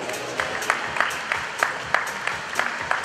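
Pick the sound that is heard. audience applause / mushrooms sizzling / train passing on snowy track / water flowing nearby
audience applause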